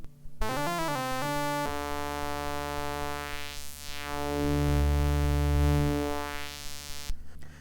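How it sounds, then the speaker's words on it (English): A buzzy Korg MS-20 Mini monophonic analog synthesizer plays a quick rising arpeggio, then holds a thick droning tone with a filter sweeping slowly up and down before cutting off. "The sound you just heard is very typical of the MS-20."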